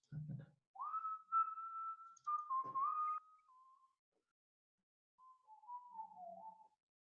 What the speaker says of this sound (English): Who's whistling? That's me.